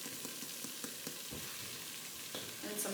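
A flour roux cooks in a pan with a dense, continuous sizzle and crackle, plus soft scraping as it is stirred, close and steady throughout.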